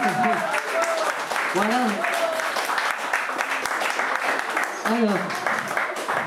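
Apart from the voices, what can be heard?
audience applauding a fresco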